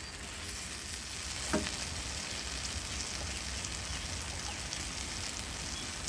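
Egg and tomato stir-fry in a pan with a steady, soft sizzle and the odd light scrape of stirring, close by, low in level and unbroken, with no voices.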